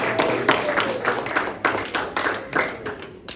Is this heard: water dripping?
no